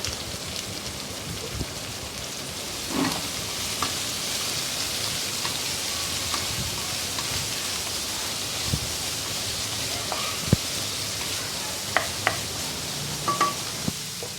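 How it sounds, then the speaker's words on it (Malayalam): Chopped onions sauté in a pan with garlic and ginger, giving a dense, even hiss of frying throughout, with a few faint clinks and scrapes of stirring. "നമുക്ക് ചെറുതായിട്ട് അരിഞ്ഞു വെച്ചിരിക്കുന്ന സവോള ചേർത്ത് കൊടുത്ത് നന്നായിട്ട് വഴറ്റിയെടുക്കാം"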